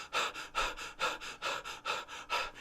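A person imitates the panting breath of someone winded: about nine quick, rhythmic breaths, each a breathy hiss, close and moderately loud with no words spoken.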